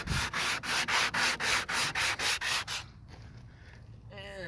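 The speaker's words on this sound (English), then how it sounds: "I use this as my sanding block because I didn't have one" A foam block used as a sanding block rubs against the body of a 1997 Ford Mustang GT in about ten rapid, even back-and-forth strokes, loud and close, before stopping abruptly.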